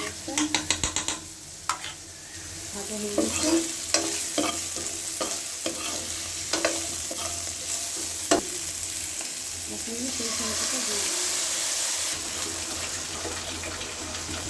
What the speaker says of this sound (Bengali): চিকেনগুলো মিশিয়ে ভালো করে মিশিয়ে নিচ্ছি